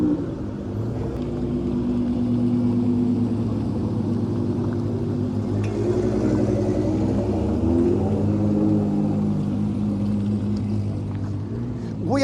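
Liberty Walk and RWB widebody Porsche cars driving out one after another at a wet car meet after rain, a steady, loud, low engine rumble that swells and fades as they pass close by.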